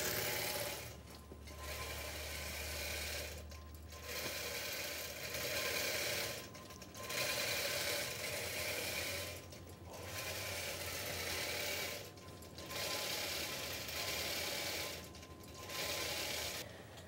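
A quilting sewing machine stitches out a courthouse steps quilt pattern in steady runs of rapid mechanical whirring, pausing briefly at regular intervals, with no talking.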